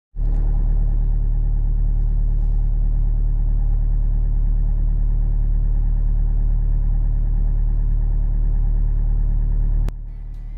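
A car drives the lanes of Terrington St Clement from the inside: a steady low engine rumble and road drone that carries evenly, then drops off near the end after a brief click.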